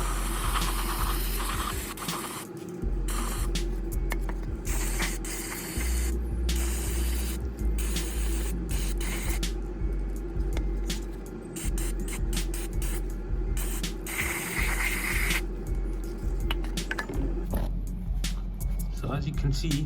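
Cleaner is sprayed onto the airflow sensor of a 2.0 TDI engine, giving a continuous hiss that runs under someone talking in a workshop setting.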